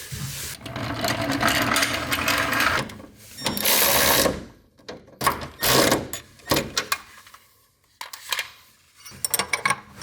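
A ratchet wrench tightens the four transmission mount nuts on an E92 M3 track car, with a long burst of metallic clicking followed by short, irregular ratcheting clicks and clanks close by.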